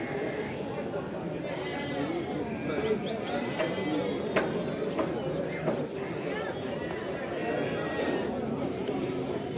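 Goats and other livestock at a sheep market in Ganja call out with scattered bleats and moos over a dense crowd murmur and nearby chatter.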